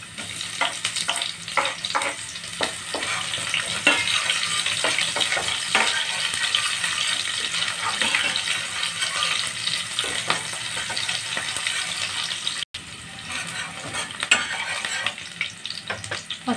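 Onion sautéing in a pan for a ginger-garlic shrimp paste dish, with a steady broadband sizzle and frequent scraping stirs throughout, one brief dropout near the end and no talk.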